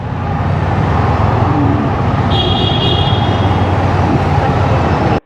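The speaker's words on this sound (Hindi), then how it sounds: "डिफेंस का है गाड़ी" Military defence vehicle on a road passes as a loud, close rumble with a broad roar of road noise and a brief high whine, then cuts off abruptly.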